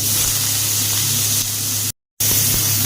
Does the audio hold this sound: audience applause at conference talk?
no